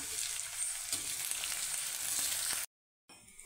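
Washed rice stirred gently in a pan over medium heat, giving a steady close sizzle with soft scraping, a brief silent gap near the end before the frying resumes; no talking.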